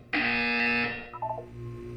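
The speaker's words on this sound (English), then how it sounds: "You will hear a buzzer. When you hear the buzzer, look up at the ceiling." A loud electronic buzzer in the video game Portal 2 sounds once, a steady harsh tone lasting nearly a second before dropping to a fainter tonal tail, with no speech over it.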